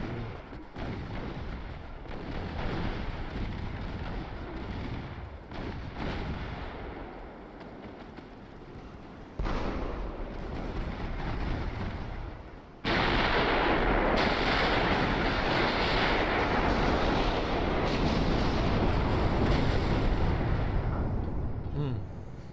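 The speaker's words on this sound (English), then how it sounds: "those shells just went directly into his hull and exploded" Naval shells burst against a ship's hull in a sea-battle video game set around the Bismarck, a steady barrage of booming artillery explosions that grows louder and denser partway through, with no talking.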